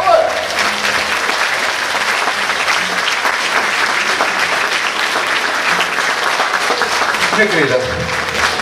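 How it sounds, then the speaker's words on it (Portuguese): Sustained audience applause for a fado singer at the first-anniversary celebration of Rádio Quinta do Conde, steady and full for over eight seconds while a voice talks over it. "Uma salva de palmas para ela!"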